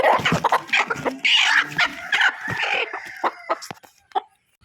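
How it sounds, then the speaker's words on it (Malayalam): Kappiri breed chickens, an orange-and-white rooster and a black-and-white hen, clucking and calling loudly and close by in a rapid, uneven run of calls that tails off at the end. "ഇതൊരു ഓറഞ്ച് വൈറ്റ് ഒരു കാപ്പിരി പൂവനാണ്."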